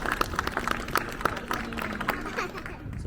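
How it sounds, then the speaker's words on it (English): An audience at a seal show in an aquarium gives a round of applause, with sharp individual claps ringing out fairly close by and then thinning away over a few seconds. "give one big round of applause to finish off our feed here for Robin"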